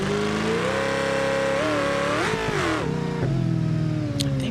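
A BeamNG racing car launches hard and accelerates, its engine revving up through rising tones with a brief drop at a gear change before climbing again, loud and close.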